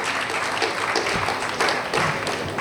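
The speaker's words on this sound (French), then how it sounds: "j'aimerais vraiment que vous les applaudissiez très très très fort." Audience applause at an award ceremony for artisan prize winners in Benin, a steady wash of many hands clapping from a hall crowd, moderately loud and continuous throughout, with a few sharper claps standing out.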